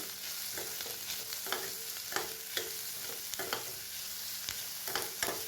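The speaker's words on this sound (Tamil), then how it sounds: "இப்போ நம்ம தட்டி வச்ச பூண்டையும் பச்சை மிளகாயும் சேர்த்துக்கலாம். இதை நல்லா வதக்கி விட்டுக்கலாம்." Crushed garlic and green chillies sauté in a pan for a crab masala gravy, with a steady near sizzle of frying broken by repeated stirring scrapes at a loose, uneven rhythm.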